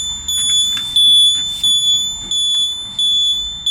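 A TVS Jupiter scooter's turn-signal buzzer, ignition on, gives a steady train of sharp, high electronic beeps at a quick, even pace, close and loud, with no talking.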